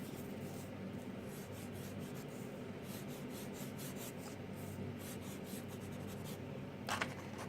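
Art Space chalk rubbed steadily onto paper to fill in tulips, a continuous faint scratchy rasp with rhythmic short strokes and a brief louder scrape near the end, no talking.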